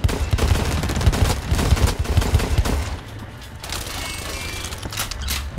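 Gunfire in the first-person shooter Blacklight Retribution, loud rapid bursts of shots in the first three seconds, then quieter mechanical clicks and a few scattered shots.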